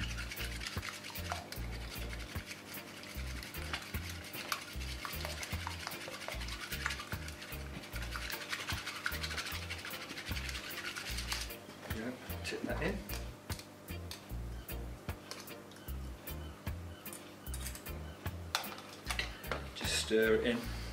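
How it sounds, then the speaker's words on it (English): A mini whisk stirs eggs into a cooled mixture of butter, sugars and syrups for Jamaican gingerbread, giving rapid clinking and scraping strokes against a bowl that run steadily throughout. "So a mini whisk."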